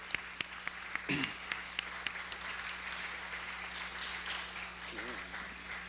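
Audience at a talk on reparations by Dr Claude Anderson gives a round of applause, a steady even wash of many hands clapping at moderate distance, fairly faint, with a few sharper individual claps standing out.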